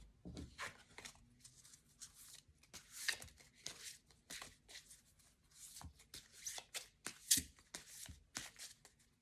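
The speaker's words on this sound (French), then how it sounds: "Alors, on va mélanger les cartes." Tarot cards shuffled by hand close up, quiet bursts of riffling and sliding card sounds in an irregular rhythm, with brief pauses between shuffles.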